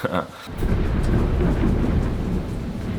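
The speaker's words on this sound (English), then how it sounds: "Hear the thunder." Deep rumbling thunder rolls on for a few seconds over steady rain, loud and low after a short quiet start.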